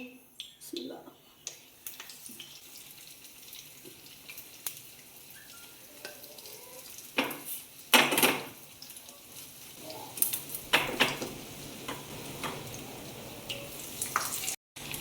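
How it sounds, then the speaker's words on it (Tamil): Masala-rubbed chicken leg pieces with a cornflake coating fry in a pan, making a steady soft sizzle with occasional louder crackles and bursts. A person talks over the frying throughout. "அதை வந்து மேலே ஒரு கோட்டிங் மாதிரி அந்த மசாலா தடவி வச்சுருந்த லெக் பீஸ் மேலே ஒரு கோட்டிங் கொடுத்து அப்படியே எடுத்து ஃப்ரை பண்ணிட வேண்டியதான்"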